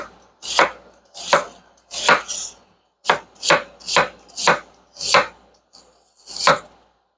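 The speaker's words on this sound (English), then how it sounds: "We're just going to put them in here with the other onions that I went ahead and chopped already." Knife chopping onions on a cutting board for French onion soup, about ten sharp, evenly spaced chops close up, with brief pauses between strokes and no talking.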